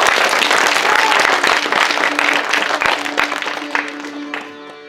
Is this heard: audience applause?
yes